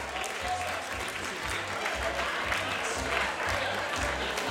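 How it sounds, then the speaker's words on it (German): Audience applause at a side event of the Austrian Open 2012, a broad, sustained sheet of clapping with crowd murmur and faint cheering beneath it, steady and moderately loud. "gibt es einen Applaus für die Männer"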